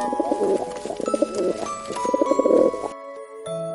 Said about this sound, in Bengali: পায়রা ডাকে বাকুম বাকুম